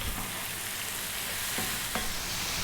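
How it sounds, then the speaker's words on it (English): Eggplants and other vegetables fry in a pan under steady stirring, a loud dense sizzle with occasional soft scrapes, close and without talk. "3 minutes stirring this around just so that they can all meet each other and become friends"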